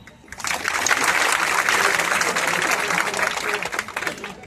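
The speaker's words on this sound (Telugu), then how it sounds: "మిమ్మల్ని అందరినీ చప్పట్లు కొట్టమని నేను అడుగుతున్నాను." An audience at a trade union meeting breaks into loud, dense applause that starts abruptly and holds steady for several seconds before tapering.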